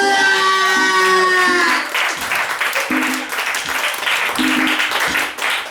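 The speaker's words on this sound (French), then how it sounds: "Applaudissez!" Audience applause at a storytelling performance breaks out after a brief held musical tone and continues as dense, close clapping, with short vocal tones and voices breaking through it.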